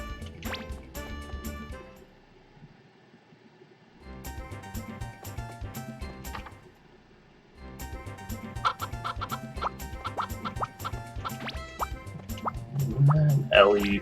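Chickens cluck in the Harvest Moon 64 video game: repeated short, bright clucks come in bursts amid other layered game sounds, with near-silent gaps between the bursts.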